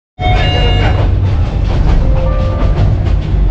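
A Bangladesh Railway passenger train running from Dhaka toward Mymensingh, heard from inside as a loud continuous rumble with rhythmic wheel clatter and faint squeals, starting abruptly after a brief silence.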